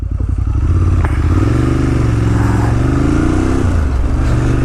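A 2018 Ducati Monster 1200S motorcycle being ridden, its engine loud and close with a rough, pulsing rumble that rises and drops as the gears shift.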